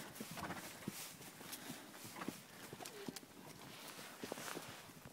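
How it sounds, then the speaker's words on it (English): Horse hooves clip-clop at an uneven walking pace on a creekside trail, fairly quiet and close, with faint outdoor background and occasional sharper hoof strikes. "And Odin's being a good lead horse for us."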